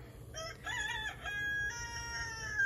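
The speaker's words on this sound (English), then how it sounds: "Here our rooster, that's Barney, aka Barney 5." Barney, a backyard rooster, lets out a single drawn-out cock-a-doodle-doo from a moderate distance, with a faint cluck or two trailing after.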